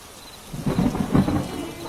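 A deep rumble of thunder rolls twice over steady rainfall, loud and close, lasting only a moment.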